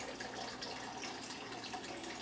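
Water from a tap fills a stock pot in a constant, fairly faint rushing hiss, steady and unbroken throughout with no voices.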